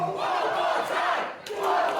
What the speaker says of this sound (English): there was too many men shouting and screaming at each other